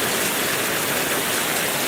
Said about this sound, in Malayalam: നമ്മുടെ നാട്ടിൽ കുറേ നേരം കൊണ്ട് നല്ല അടിപൊളി മഴ